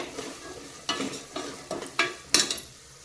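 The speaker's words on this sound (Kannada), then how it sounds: "ನೋಡಿ ಇಲ್ಲಿ ಫ್ರೈ ಆಗ್ತಾ ಇದೆ" Slit green chilli frying in oil while being stirred, with a soft continuous sizzle and several distinct spoon scrapes at irregular intervals, close and fairly quiet, no speech.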